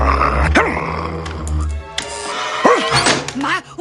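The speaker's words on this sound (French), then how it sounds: "Un chien." A dog growls and barks in a dramatic scene, with short rising yelps and thuds mixed in over a low rumbling bed of sound, close and fairly loud.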